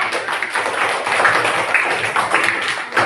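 An Indonesian primary school class claps together as a teacher's reward at the end of a lesson, a dense, steady patter of many small hands filling the room without a break.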